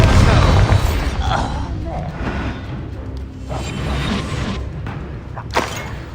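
A Confringo fire blast spell fires in the Hogwarts Legacy video game, opening with a heavy booming crash that fades into rumbling, whooshing effects and smaller impacts, loud and close.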